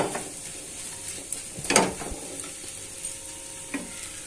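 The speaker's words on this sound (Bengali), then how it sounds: "এখন আমি এটাতে দুধ দিচ্ছি।" Milk poured into semolina roasting over low heat in a pan, a sudden loud sizzling burst with a splash, settling into faint frying crackle and a brief utensil scrape.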